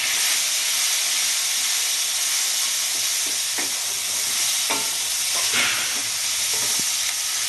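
Bengali-style rui fish kofta curry sizzling in the pan after water is added, a steady hiss of frying and steam with occasional spatters and stirring knocks, no talking.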